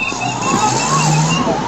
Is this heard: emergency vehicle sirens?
yes